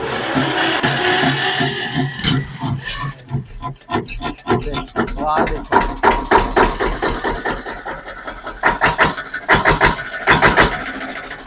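A Mahindra tractor's diesel engine cranks and starts close by, breaking into loud, rapid rhythmic knocking pulses that continue steadily to the end.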